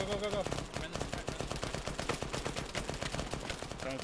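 Dense, rapid gunfire from an Arma 3 firefight, overlapping rifle and machine-gun bursts crackling continuously and loudly throughout, with voices briefly heard amid the shooting.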